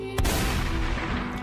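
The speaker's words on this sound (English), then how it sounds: "the stock gunshot sound effect at the end is too bad though" A stock gunshot sound effect closes a TV drama's opening titles: one sharp, loud report followed by a sustained booming, reverberant tail over low rumble.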